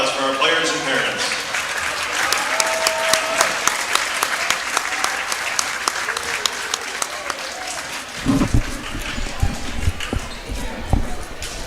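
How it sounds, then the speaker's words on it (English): Crowd in a gym at a high school volleyball match between the Ipswich Tigers and Potter County Battlers applauds players and parents, steady clapping with sharp individual claps and a few thumps, then a brief burst of louder activity near the end. "Let's have a round of applause for our players and parents."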